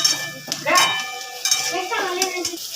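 A spoon scrapes and clinks against a pan while frying onion sprinkled with salt is stirred, a few close, irregular knocks over a soft background sizzle.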